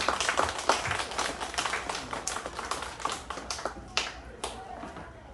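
Audience at a traditional Korean wedding ceremony in Hannae village, Deokpo, clapping together: a steady, fairly close patter of many hands with sharp individual claps standing out, sustained for several seconds.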